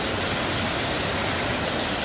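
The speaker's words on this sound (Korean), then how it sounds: "폭포수가 저렇게 곱슬머리처럼 내려요" Jangheung Falls near Seoul, a waterfall in a mountain valley, sends water cascading down rock in a steady, close, unbroken broadband rush with no voices over it.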